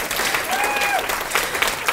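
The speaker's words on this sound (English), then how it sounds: "you can give me applause, that's fine" A conference audience gives a speaker steady applause, a dense wash of many hands clapping at moderate distance. A faint voice or whistle-like tone rises briefly within it.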